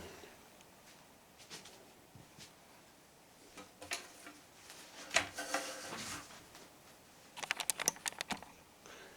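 Keyboard typing in scattered bursts of light clicks, quiet and close, with a denser flurry of rapid keystrokes near the end and no talking.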